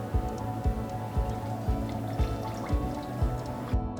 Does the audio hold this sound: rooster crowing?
no